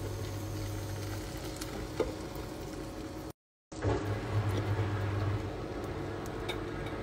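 Scallops sizzling in a frying pan, a steady close crackling fry that carries on evenly throughout, broken by a short silent gap.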